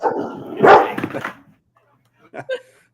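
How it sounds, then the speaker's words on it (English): Dogs bark in a burst of loud overlapping barks and yips for over a second, then a short pause before two more sharp barks close by. "dogs barking"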